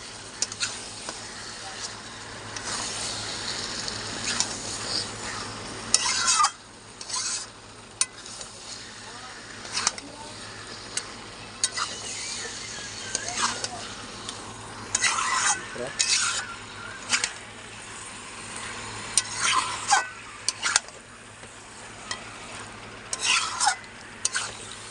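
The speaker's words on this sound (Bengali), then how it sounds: "চিকেন আর মশলা সব ভালো করে আমি কষে নেব।" Chicken and masala being stir-fried (kosha) in a pan for a chicken kosha curry, with steady scraping stirs, clinks of the utensil against the pan and an ongoing sizzle, fairly close and continuing throughout.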